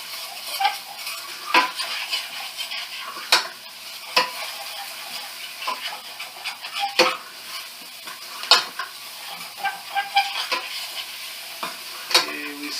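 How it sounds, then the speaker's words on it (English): Onions sweat in a pan for chicken parmesan under a soft steady sizzle, with frequent metallic taps and scrapes of a utensil stirring against the pan, close up and without talk. "we sweated our onions down"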